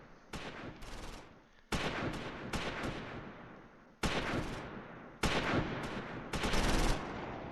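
Gunfire in the World War II video game Close Combat IV, Dasburg and Wiltz battle: dense, continuous bursts of rifle and machine-gun fire rattle in overlapping waves, broken by a few abrupt cuts and restarts.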